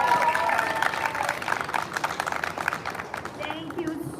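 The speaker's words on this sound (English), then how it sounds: "give her a round of applause" A crowd at an outdoor Day of the Girl rally at the Connecticut State Capitol applauding as the Lieutenant Governor is welcomed, moderately loud claps with cheering voices, tapering off toward the end.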